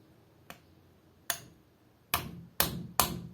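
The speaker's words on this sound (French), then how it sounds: "On va faire avec un marteau, mais tout en douceur." Gentle hammer taps on a part of a nitro RC car's Force 46 7.5cc engine, five sharp metallic knocks spaced unevenly and getting closer together, close up with no talking.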